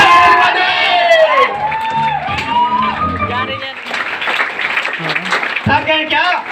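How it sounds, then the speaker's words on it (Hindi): An audience at an event claps and cheers loudly and steadily, with shouts and whoops rising over dense applause while a voice speaks through the noise. "नेक्स्ट मिस कर्मी मैम के लिए एक बार जोरदार ताली होनी चाहिए।"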